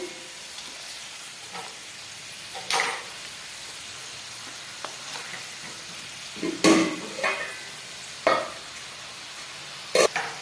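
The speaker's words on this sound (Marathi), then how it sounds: "छान तळून घ्यायच्या करंजा अशा पद्धतीने घेऊयात करंजीला छान असं पलटून" Semolina-and-coconut-filled karanji pastries fry in hot oil with a soft, steady hiss, broken by a few sharp clinks and splashes as the pastries are turned.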